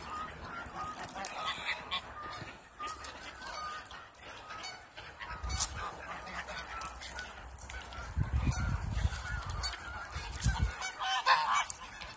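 Geese honking loudly and repeatedly while being fed, bursts of calls clustering close by, with softer ducks quacking among them.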